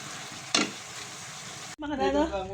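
Tinola cooking in a pan, with steady sizzling and frying hiss, a sharp stirring scrape partway through, then a louder bubbling, sputtering burst near the end; no talking.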